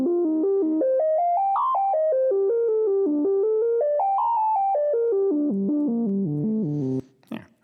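A motor-driven electronic instrument using a timing belt drive plays a stepped, wavering melody line that rises and falls steadily for about seven seconds, then cuts off abruptly into a brief burst of noise.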